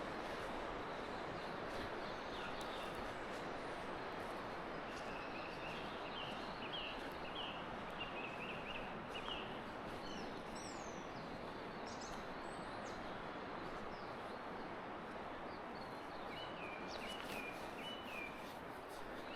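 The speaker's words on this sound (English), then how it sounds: "Listen to the birds." Morning dawn chorus of wild birds along an animal trail at a wet winter campsite, faint chirps and calls scattered over steady rain or wind noise throughout.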